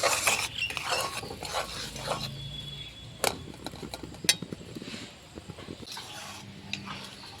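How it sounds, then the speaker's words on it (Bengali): A spatula stirs caramel in a pan, scraping and clinking against the metal with a faint sizzle and occasional sharp taps, continuous and close. "এখন আমি খুন্তি দিয়ে এটাকে নাড়াচাড়া করে নেব।"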